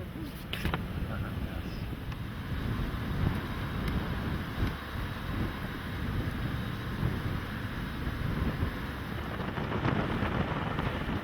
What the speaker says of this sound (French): Ibrahim, notre pilote, conduit avec maîtrise notre pirogue dans un étroit chenal.